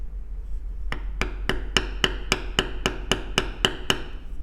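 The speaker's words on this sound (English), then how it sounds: "We'll keep going, bevel all these lines, and then we'll come back for our next tool." A mallet taps a metal leather beveling tool on a leather wristband, striking about a dozen times in an even, steady rhythm. The crisp, close knocks sound alone over a low background hum.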